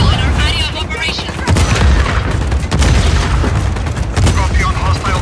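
Train-mounted cannon firing in Just Cause 4, with loud heavy booms and gunfire filling a dense battle soundscape while a voice talks over the top.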